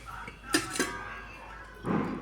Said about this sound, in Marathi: दोन तीन चमचे मी दही घेतले आहे आणि चमच्याने मिक्स करून घेणार आहे